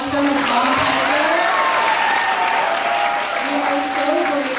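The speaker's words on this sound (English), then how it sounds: "everyone give a round of applause for Hasan Piker." Audience at a Stanford event applauds Hasan Piker, a dense, steady wash of clapping that fills the whole stretch at full strength, with some faint voices and cheers mixed in.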